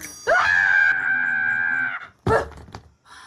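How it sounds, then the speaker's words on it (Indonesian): A woman lets out a long, loud, sustained scream, then cuts off and gives a second, shorter shriek. "Kenapa teriak-teriak tuh?"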